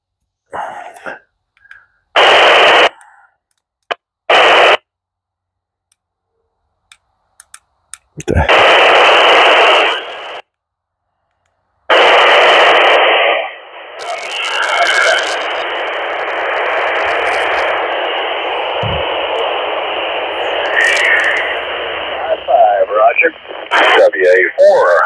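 Bursts of radio static and squelch from an SO-50 satellite downlink come through an Anytone 878 handheld, with short hissy openings, then a long noisy stretch carrying faint distorted voices, loud and close.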